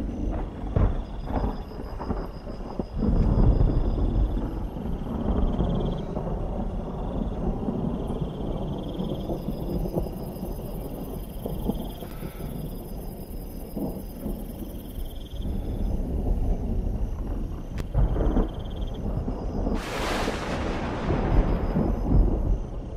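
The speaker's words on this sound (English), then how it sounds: "Thunderstorm action to set the stage." A thunderstorm with low rolling thunder rumbling steadily throughout, with insects or crickets chirping faintly in the background and a sharper crack or burst near the end.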